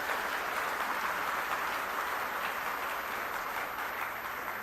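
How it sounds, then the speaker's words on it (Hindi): A political rally crowd in Kurukshetra claps, producing a continuous, fairly distant roar of many hands that stays level for several seconds without speech. "एक बार जोरदार तालियां बजा के हमारी टीम का हौसला बढ़ा दीजिए।"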